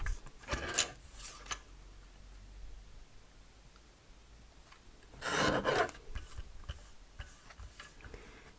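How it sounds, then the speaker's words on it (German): Cardstock for a handmade sympathy card being trimmed, faint rasping cuts and rubbing strokes, a short pair early on and a louder, longer cut midway through a quiet room. "ich schneide mir den vorne auch noch zu."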